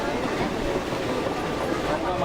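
A Konkan Railway train runs with a steady low rumble and faint rhythmic rail noise, heard from inside, while a person speaks over it.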